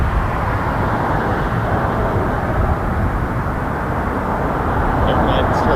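A jet airliner taxiing at Toronto Pearson Airport gives a steady, loud, low engine rumble that stays even throughout, with faint voices mixed in beneath it.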